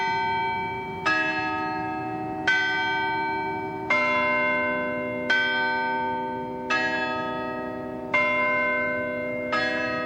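A newly built bell tower at Purdue University rings a slow sequence of about seven bright, resonant strikes, each note ringing on and decaying before the next, with no other sound.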